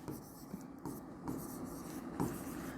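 Marker or chalk writing names on a board during a Sanskrit grammar class, with steady scratchy strokes and a few firmer taps, continuous and close, with no speech.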